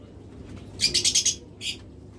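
Large pet birds at a bird shop, among lovebirds, budgerigars, cockatiels and doves, give a quick run of five bright chirps, then one more after a pause, over a low background rumble.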